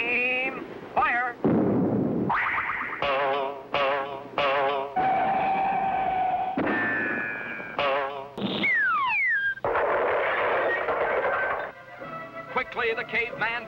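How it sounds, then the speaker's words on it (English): A cartoon cannon fires a human cannonball amid a busy soundtrack of whistles, warbling electronic effects and bangs, with a loud burst near the middle. "Look, the cannon can still be fired."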